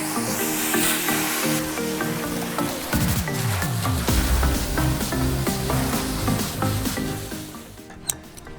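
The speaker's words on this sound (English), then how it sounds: "we're going to spray off the condensing unit" Close, loud, continuous hiss of a hose spraying water onto an HVAC condensing unit, with rattling, clattering texture and shifting tones throughout, cutting off abruptly near the end.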